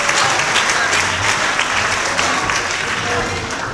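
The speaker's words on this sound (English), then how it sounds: "Clap for her and embarrass her all you want" Audience applause fills a candidate forum for Washington's 4th Congressional District, a dense, steady wash of clapping from a crowd that holds its level for the whole stretch, with faint voices mixed underneath.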